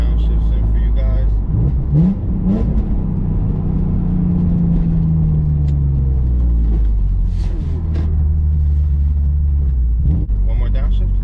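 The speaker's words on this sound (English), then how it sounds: "Got a couple of downshifts in for you guys." BMW E46 M3 engine heard from inside the car through a series of downshifts, with rising blips and revs over a steady low rumble, someone talking over it throughout.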